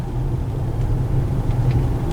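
A 2023 Range Rover rolls through a U-turn, heard from inside as a low steady rumble of engine and road noise, close and continuous, with no speech.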